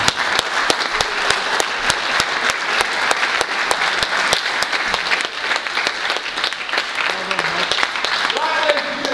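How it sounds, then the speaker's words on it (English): Sustained audience applause fills an amateur boxing show hall, dense overlapping claps loud and steady throughout with crowd murmur underneath. "So I think it's a big round of applause for all of us."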